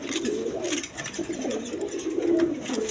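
Several healthy pigeons, a mix of breeding pairs, squabs and breeds, cooing continuously in low warbling murmurs, close and fairly loud with steady overlapping calls.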